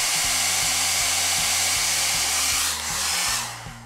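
A hair dryer blows a steady, loud rushing hiss with a low hum, briefly dipping near the end as it shifts.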